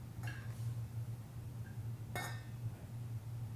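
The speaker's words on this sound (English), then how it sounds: "let's pierce them with a fork and place them in your 360 4-quart stock pot" Sweet potatoes are pierced with a fork and set into a 4-quart stock pot, giving a few faint clinks and scrapes of metal against the pot over a steady low hum.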